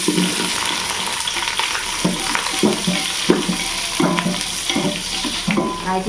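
Sliced big onions sizzle steadily in a hot pan for mushroom biryani, a close, continuous frying hiss broken by soft scrapes of stirring at a regular pace.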